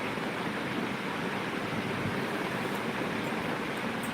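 Flowing water gives a faint, steady rushing hiss, even and unbroken, with no voices.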